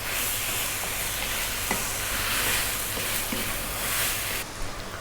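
Vegetable rice fries in a pan over medium heat, a steady loud sizzle and hiss with occasional stirring scrapes, running continuously throughout.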